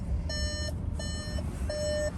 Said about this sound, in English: So that's just beeping at me, letting me know the car is still on and I'm hopping out.